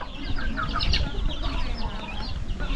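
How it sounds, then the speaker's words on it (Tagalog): A flock of chickens clucks continuously and loudly close by, a dense, busy chatter of overlapping calls over low rumbling background noise. "Kaya mga manok, oh."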